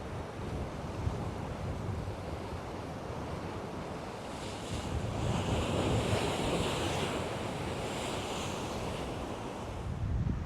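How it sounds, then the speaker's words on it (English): Wind and crashing waves at Ghar Lapsi on Malta's coast during Storm Harry, a continuous roaring surge of surf with heavy wind buffeting the microphone, rising louder midway through. "Today the wind is going to pick up as well."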